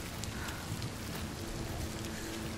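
Steady, dense rainfall in the video game Hellblade 2, a constant hiss of drops on surfaces with no pauses, fairly quiet and even throughout.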